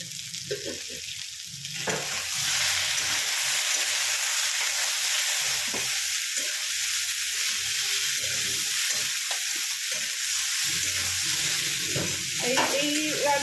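Potatoes and green peas fry in a wok with a loud, steady sizzle while a spoon stirs and scrapes through them, and someone speaks briefly at the start and end.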